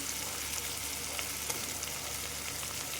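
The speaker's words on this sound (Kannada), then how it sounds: "ಅದು ಅಷ್ಟೇ ಎಣ್ಣೆಯಲ್ಲೆಲ್ಲ ಚೆನ್ನಾಗಿ ಫ್ರೈ ಮಾಡ್ಕೊಬೇಕು" Ginger-garlic paste frying in oil with tomato, onion and green chilli for chicken biryani, a soft continuous sizzle with faint stirring clicks, steady and fairly quiet, without speech.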